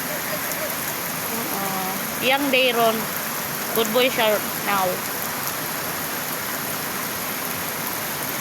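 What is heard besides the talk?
rain falling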